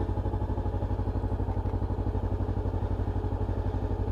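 Honda CB500 motorcycle engine running steadily on a ride, with a continuous close-up pulsing thrum and a fast even rhythm throughout, no talk.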